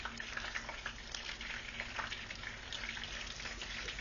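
Chicken cordon bleu pieces browning and crisping in a hot pan give off a steady, close sizzle of frying oil, a continuous hiss with small pops and no voices.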